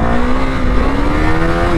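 A KTM Duke 390 motorcycle engine revs hard and loud up close, a steady, rising high-pitched drone held without a break.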